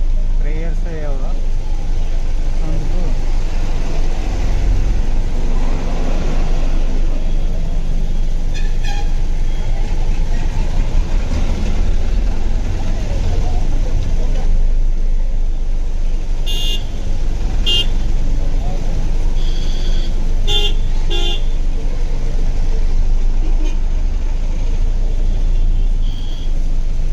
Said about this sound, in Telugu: ట్రాఫిక్ అనమాట